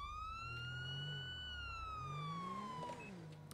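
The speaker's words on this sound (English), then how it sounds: "And then the siren." A video game police car siren wails steadily, its pitch sliding up and down in a smooth electronic sweep with a low engine rumble beneath.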